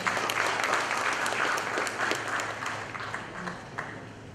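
Audience applause at a PechaKucha night during a marketing technology conference, a broad sustained wash of clapping that holds steady for several seconds before thinning slightly, fairly loud with no speech over it.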